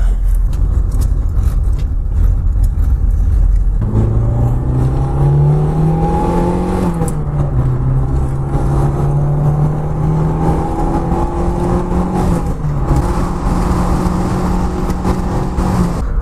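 A Fiat Seicento SPI turbo running on E85 under way on the road, its engine note rising through the gears in long sweeps with brief dips at shifts, loud and steady from inside the car over road and wind roar.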